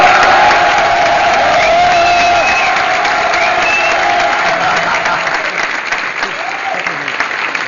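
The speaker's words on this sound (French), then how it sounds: "applaudissez-le, comme ça il va s'entendre" Loud, sustained applause from a large audience at a live stage comedy show, with faint cheering mixed in; the clapping stays dense throughout and eases slightly toward the end.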